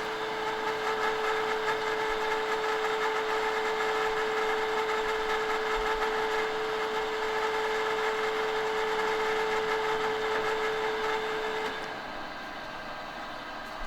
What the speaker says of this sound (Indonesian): Yang pertama kita nyalakan dulu dari cutternya. Setelah itu kita nyalakan eretan otomatis pada sumbu X ke arah kanan.